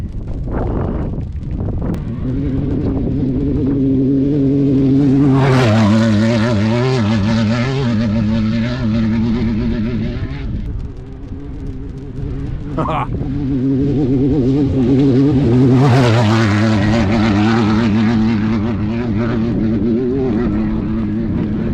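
An off-road race car tears past at speed over a high-speed whoop section in the desert, its engine note swelling twice as it approaches and fades, loud and sustained with wind buffeting; no talk during the pass.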